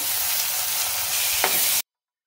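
Chopped tomatoes frying with onion and ginger-garlic paste hiss in a steady, close sizzle with a brief stirring scrape near the end before cutting to silence.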